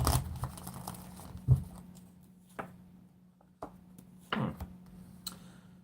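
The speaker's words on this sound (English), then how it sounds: "One more shuffle." Tarot cards being shuffled, heard as soft, scattered riffles and snaps of card stock separated by quiet gaps, close and fairly faint.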